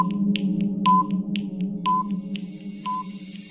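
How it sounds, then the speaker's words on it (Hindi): A quiz countdown timer plays a repeating electronic beep pattern, evenly spaced tonal pips with longer chimes about once a second, over a low steady hum, with no voices. "आपको इसका जवाब देने के लिए 5 सेकंड का टाइमर दिया जाएगा जो शुरू होता है अब।"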